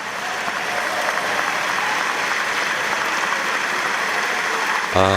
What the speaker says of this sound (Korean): 기립박수가 터집니다.